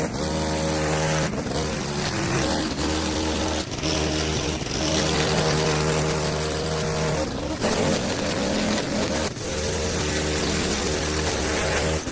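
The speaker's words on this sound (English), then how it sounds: "I'm very impressed with the quality of the work that the lawnmower is doing" A battery lawn mower cutting an overgrown yard drones steadily and loudly throughout, a continuous engine-like hum with a few brief dips, no voices.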